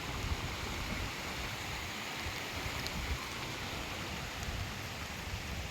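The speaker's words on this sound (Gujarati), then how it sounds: "વરસાદ થયો ખતરનાક ચાલુ એકદમ જોરદાર" Heavy monsoon rain pours down in Junagadh, Gujarat, in a dense, unbroken roar, loud and steady throughout with no voices.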